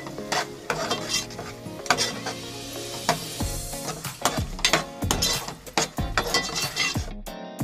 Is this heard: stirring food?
yes